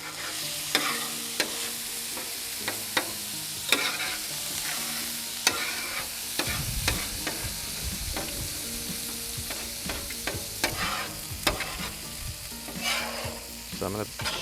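Ground beef fries in hot oil on a stovetop burner, a steady close sizzle with occasional stirring scrapes and pops throughout, no talking.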